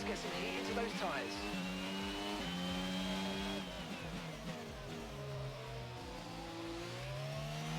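F1 race car engine in the F1 22 video game climbs through rising, falling revs with gear shifts, loud and close, and a voice speaks over it.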